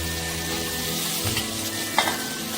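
Masala okra fries on a tawa with a constant close sizzle, broken by a couple of soft stirring knocks and a short clatter near the end, no talking.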